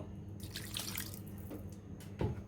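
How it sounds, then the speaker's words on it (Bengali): Water poured into a curry of river chanda fish and eggplant as it cooks, a steady soft splashing stream with a brief louder slosh near the end, close by and with no talking. "আমরা আরেকটু জল দিয়ে দিব"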